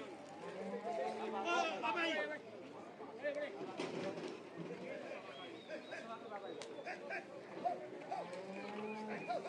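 Cattle low and moo over a busy outdoor scene, with people calling and chattering throughout and steady rustling background noise.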